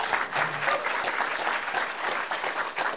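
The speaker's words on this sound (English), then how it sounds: "let's give a round of applause for Andy Reitano." An audience claps together in steady, dense applause lasting a few seconds, fairly close and even in loudness.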